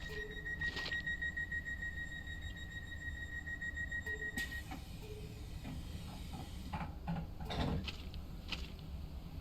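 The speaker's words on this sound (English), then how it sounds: "you can operate the passenger doors from both sides using the guards panel" Passenger doors on a Class 314 electric train in Train Sim World 2 sliding shut under a steady high door alarm tone, followed by thuds and clunks over a constant background hum.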